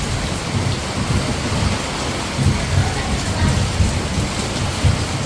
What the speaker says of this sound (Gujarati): જો ધોધમાર વરસાદ પડે છે